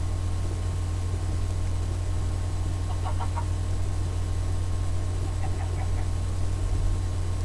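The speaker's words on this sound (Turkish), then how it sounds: "Bir tane daha tavuk var." A chicken in the Minecraft video game gives two brief, faint bursts of clucking a couple of seconds apart, sitting over a steady background hum with no talking.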